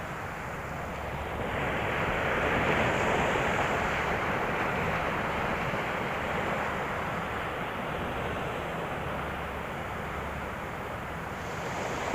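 Big waves crash and roar onto the shore at a shorecasting fishing spot, a broad steady surf rush that holds loud and continuous from start to finish, no voices.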